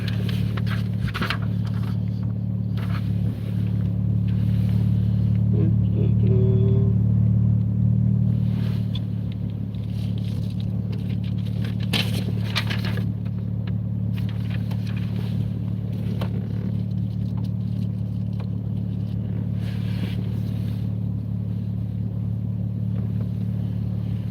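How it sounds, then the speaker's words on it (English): A car engine idles steadily with a low, constant rumble throughout, parked during winter with a snowstorm approaching; a slight rise in level occurs early on, with no talk heard. "we can turn the car off now"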